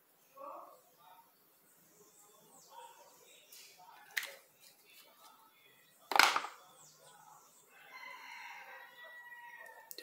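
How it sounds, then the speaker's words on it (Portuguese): A rooster crows from a neighbouring spot outside the house while someone talks. Clucks and scattered fowl calls surround a louder crowing burst partway through. "E nem é 5 horas da manhã pra estar cantando, galo."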